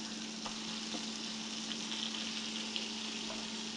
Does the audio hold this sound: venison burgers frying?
yes